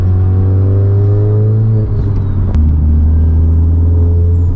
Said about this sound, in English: That turbo spools very quickly.